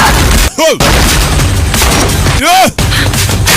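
Gunfire inside a Russian intelligence agency compound, loud close bangs with two sharp dropouts around repeated blasts, mixed with heavy noisy clutter throughout.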